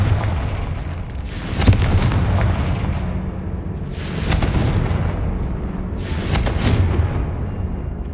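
Confringo spell blasts from the video game Hogwarts Legacy boom in three heavy bursts spread through a dense, rumbling combat din, loud and close, with no talk.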